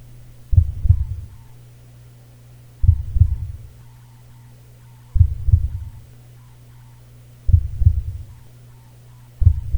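A slow, deep heartbeat thumps in evenly spaced lub-dub pairs, about every two and a half seconds, over a low steady hum in a radio ad for an emergency center.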